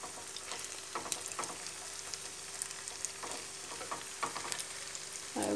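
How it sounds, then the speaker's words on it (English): Vegetable burgers made with leftovers fry in a pan, giving a constant soft sizzle with occasional sharper pops and crackles and a brief louder burst at the end. "So we shall now continue cooking our burgers."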